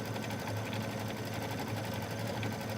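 A community sewing machine, used for embroidery and quilting, runs continuously with a steady, fast mechanical hum and rattle, close and even throughout.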